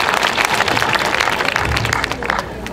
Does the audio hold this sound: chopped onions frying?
no